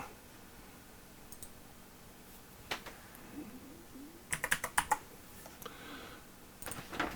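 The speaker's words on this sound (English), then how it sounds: "So let's go type in 120 microvolt." Keys tapped on a computer keyboard in a quiet room, a few sparse clicks followed by a quick cluster of light keystrokes and a couple more near the end, faint and close.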